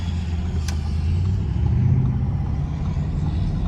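A 591 hp 2021 Audi RS Q8 accelerates hard, its engine a deep, sustained rumble heard from inside the cabin, rising slightly in pitch as it pulls steadily.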